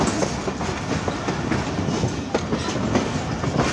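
The Millat Express passenger train approaching Khanewal Junction in Pakistan, a steady loud rumble with rhythmic clickety-clack of wheels over rail joints, heard from on board with no talking.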